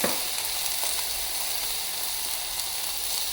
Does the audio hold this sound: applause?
no